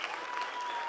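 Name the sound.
audience applause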